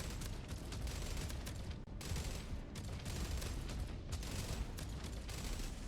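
Enemy ship turret firing in the space video game Jump Ship, a dense continuous barrage of rapid shots and blasts that runs the whole time at steady loudness, with no talking.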